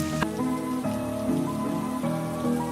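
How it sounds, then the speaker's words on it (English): Steady rain patters on a surface in a Peppa Pig cartoon, with tonal musical layers running underneath the continuous wash of drops. "It is raining."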